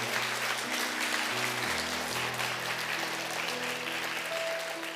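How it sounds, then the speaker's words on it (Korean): A church congregation at a Sunday service in Bellevue gives big, steady applause to bless a member receiving a discipleship completion certificate, continuous clapping over sustained organ or keyboard chords. "우리 받아주실 때 큰 박수로 축복하겠습니다"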